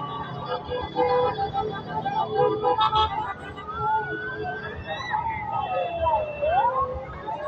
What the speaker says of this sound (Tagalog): Ayun na, may bumbero maliit